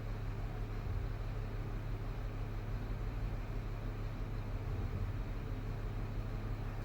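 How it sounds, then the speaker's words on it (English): A steady low rumble of a garbage truck idling or rolling outside, muffled and constant with no voices. "Let me see if you can hear the garbage truck outside."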